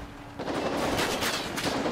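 Police open fire in a video game, a dense, continuous rattle of gunshots rising after a quiet start and holding at a moderate level throughout.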